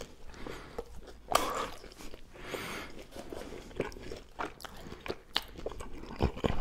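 Close, quiet chewing and crunching of charcuterie, saucisson and pâté, with irregular bites and soft mouth sounds repeating throughout, without talk.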